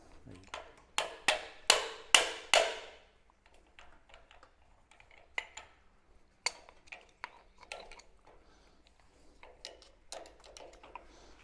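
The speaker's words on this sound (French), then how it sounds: "Il faut taper là-dessus pour le décoincer. Essaye de taper comme ça, un petit coup de marteau sur le..." A hammer strikes a stuck mast fitting on a Super Arlequin sailboat during a refit: a burst of five sharp, ringing blows close by, then scattered lighter taps and clicks, with quiet voices now and then.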